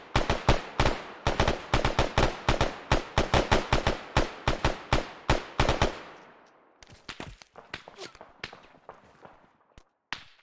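Sustained automatic gunfire in the Arma 3 military shooter during a night co-op assault on a town, rapid bursts for about six seconds, then sparser scattered shots and distant cracks echoing afterward.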